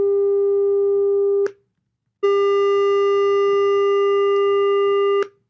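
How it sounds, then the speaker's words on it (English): A sine-wave test tone plays through a speaker during a live sound-physics demonstration: a loud, steady pure hum that cuts off, falls silent for under a second, then returns and holds before stopping. "Sine wave."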